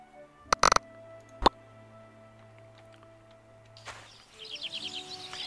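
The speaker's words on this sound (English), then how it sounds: "Man, those birds are loud." Birds chirp in the video game My Time At Portia, a run of quick bright tweets near the end, after a few sharp clicks and a faint background tone.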